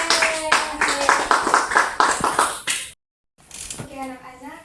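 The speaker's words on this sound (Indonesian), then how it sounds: "Tepuk tangan untuk Lista." A class of third-grade children claps in quick, rhythmic bursts, close and loud, while a teacher's voice speaks over the clapping, then a brief silence and children cheering.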